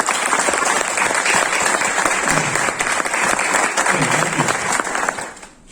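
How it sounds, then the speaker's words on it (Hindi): Loud, sustained applause from an audience at a leadership program session in Lonawala, dense clapping filling the room before tapering off at the very end. "तो एक बार जोरदार तालियां चाहूंगा सर के लिए।"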